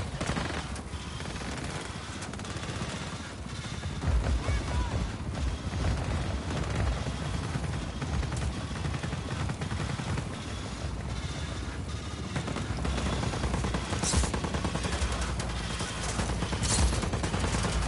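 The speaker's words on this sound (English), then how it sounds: "You're shooting at me." Sustained rattling gunfire and explosive booms in Just Cause 4 combat, dense and loud throughout with continuous rumbling chaos and no clear gaps.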